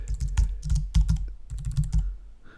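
Quick bursts of keystrokes on a computer keyboard while filling in a web template, close and crisp with short pauses between runs and no one talking.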